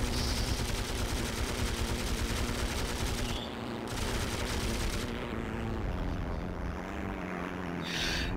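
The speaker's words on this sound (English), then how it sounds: "the enemy AA is this time shooting from O3" Sustained rapid gunfire from an anti-aircraft gun in the Heroes and Generals video game, a dense rattling fusillade with brief gaps, steady and moderately distant throughout.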